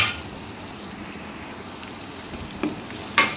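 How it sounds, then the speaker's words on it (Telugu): Chicken pieces fry in oil with turmeric and salt in an Andhra-style chicken fry, giving a steady, soft sizzle throughout with a couple of sharper crackling spikes near the end. "ఇవి మొత్తం కూడా కలిసి ఈ విధంగా ఫ్రై అవ్వాలండి"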